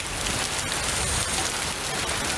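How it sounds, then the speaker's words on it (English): Steady rain falling in a film scene, a dense, even hiss of drops that fills the whole stretch with no break and no voices. "Can she feel the rain?"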